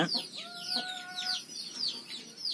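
Chickens cluck and call repeatedly in a poultry farm where sprouted grain grows, several close, rhythmic clucks with one longer drawn call, no speech.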